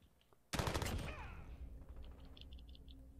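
A shotgun and gunfire in Call of Duty: Modern Warfare on a night map: a sudden burst of rapid, loud shots that decays into quieter clicks and chirps.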